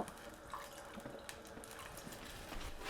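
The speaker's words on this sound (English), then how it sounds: "this was the liquid from the chickpea can and some water" Chickpea can liquid and water poured into a pan of pasta con ceci, a faint, steady trickle with light drips, close by and without talk.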